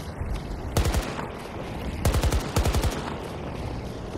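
Several short bursts of gunfire in Battlefield 2042, each a quick cluster of three or four sharp shots with pauses between, heard over faint background game noise.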